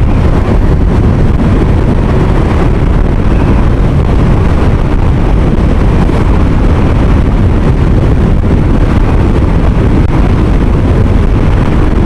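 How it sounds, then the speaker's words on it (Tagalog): Heavy, constant wind roar buffets the microphone while riding a motorcycle on a hot day, a loud unbroken rumble with no pauses. "Kasi mahangin eh."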